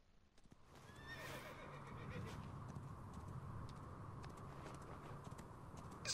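A horse whinnies once near the start in Assassin's Creed Origins, followed by hooves clip-clopping steadily under a soft ambient background.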